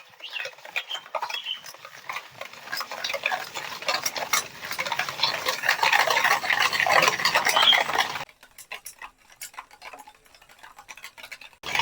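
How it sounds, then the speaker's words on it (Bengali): Sugar and a pinch of salt stirred together in a bowl, a steady close scraping and clinking of the spoon that builds for about eight seconds, then softer, sparse taps. "ভালো করে এবারে মিশিয়ে নেব যতক্ষণ না চিনিটা গলে যাচ্ছে।"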